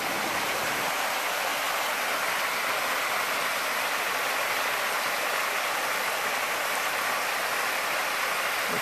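A torrent in the eastern Mecsek hills crashes down as a waterfall, a loud, dense, unbroken roar of rushing water heard up close, with no voices.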